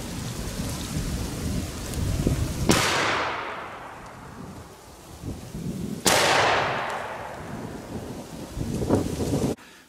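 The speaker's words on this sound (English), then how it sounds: "I'm going to fire the soft point to the left and the full metal jacket to the right." Two .223/5.56 rifle shots, one soft point and one full metal jacket, are fired into hams outdoors. Each sharp, loud crack is followed by a long, rolling echo that fades over several seconds.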